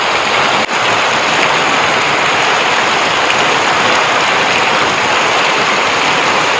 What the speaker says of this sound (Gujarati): આવો વરસાદ પડતો હોય